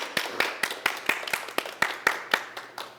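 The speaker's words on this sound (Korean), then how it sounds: "박수 한번 주세요" A small group in an office meeting claps in about a dozen distinct, evenly spaced sharp claps, close and fairly soft, slightly loose in rhythm.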